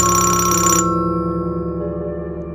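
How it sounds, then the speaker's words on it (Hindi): Mobile phone ringing in a Hindi cartoon, a loud electronic ringtone with layered tonal notes sounding continuously, its bright upper tones dropping away partway through while the lower ring carries on. "अचानक मोबाइल पर बेल बजती है।"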